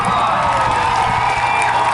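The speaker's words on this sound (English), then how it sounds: "Let's give him a round of" A large crowd cheers and applauds for a stunt performer nicknamed Rocketman after he lands in a net. The roar and clapping form a dense, steady wash that fills the whole stretch.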